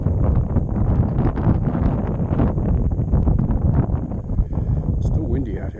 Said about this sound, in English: Still windy out here.